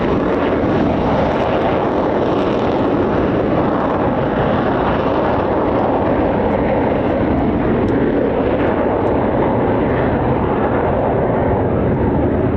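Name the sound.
fighter jet engine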